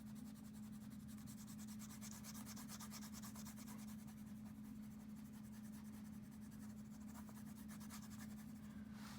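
A yellow colored pencil lightly rubbing across paper, a faint, continuous scratchy rasp close by with a steady rhythm of small strokes and a low hum underneath.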